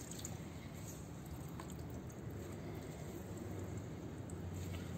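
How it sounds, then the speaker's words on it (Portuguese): Wet fabric holding paper mache pulp is twisted and wrung out by hand, giving a soft, continuous squishing and dripping of water, quiet and close, with no talking. "tirando todo o excesso da água"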